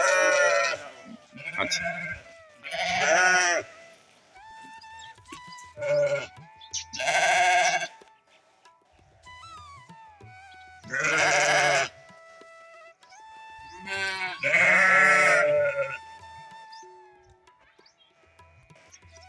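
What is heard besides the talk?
sheep bleating in a village pen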